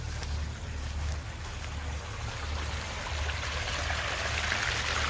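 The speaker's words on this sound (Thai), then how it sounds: "น้ำไหล" Water flows and rushes continuously along a stream in a rural outdoor setting, a steady, fairly loud broadband wash with no talking.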